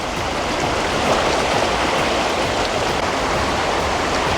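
A dog wades into a stream in Southern Utah, with the steady broadband rush of flowing water filling the scene continuously and loudly, no distinct splashes standing out.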